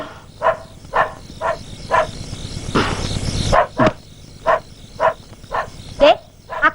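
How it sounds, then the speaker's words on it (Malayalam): Kaiser, a dog, barks in a steady series of sharp, evenly spaced woofs at fairly close range, with a brief rush of noise breaking the rhythm partway through. "ആ കൈസർ ഇടുന്ന് കുരയ്ക്കുന്നുണ്ട്."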